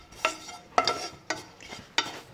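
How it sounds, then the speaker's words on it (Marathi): Dry grated coconut being roasted in a pan and stirred with a utensil, with four sharp scraping strokes spaced at a steady rhythm, close and fairly loud, with a faint sizzle between them. "सुकं खोबरं पटकन भाजलं जातं आणि त्यात तर आपण ते खिसून घेतलेलं आहे त्यामुळे लगेचच भाजलं जातं।"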